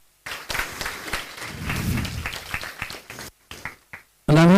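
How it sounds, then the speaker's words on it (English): Audience applause at the end of a lecture, a dense wash of many hands clapping for about three seconds, then breaking into scattered claps before a loud tone cuts in. "You may applaud if you wish."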